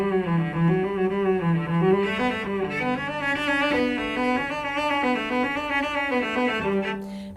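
Cello playing a Dotzauer etude with the thumb kept in one place and the fingers doing the work, a continuous run of bowed notes, resonant and close, unaccompanied.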